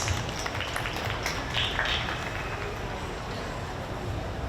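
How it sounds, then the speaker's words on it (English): Broad, steady applause from a crowd at a junior market goat show, clapping for an exhibitor in her age class, a dense continuous patter with no gaps. "Let's give her a round of applause out here in our age class."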